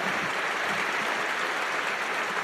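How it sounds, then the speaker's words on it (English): Shareholders at the Berkshire Hathaway annual meeting applauding in a large hall, a dense, even wash of clapping that holds steady throughout. "don't wear out all your clapping on Charlie"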